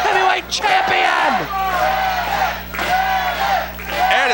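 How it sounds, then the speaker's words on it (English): Loud wrestling crowd at a CWF Mid-Atlantic event cheers and yells continuously for the Mid-Atlantic Heavyweight Champion, a dense roar of whoops and shouts with a steady arena hum beneath. "This crowd is rocking for the Mid-Atlantic Heavyweight Champion!"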